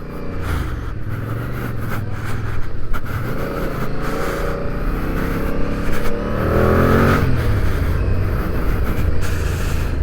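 A 2025 Yamaha MT-07 motorcycle engine runs loud and close while riding, its pitch rising and falling through gear changes and climbing steadily toward the end, with no talking.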